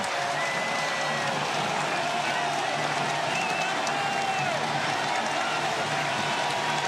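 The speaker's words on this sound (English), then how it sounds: "The crowd has been relentless." A packed baseball stadium crowd at a Royals–Orioles wild card playoff game roars with steady cheering, applause and scattered whoops, a dense continuous wash of noise filling the whole stretch without clear breaks.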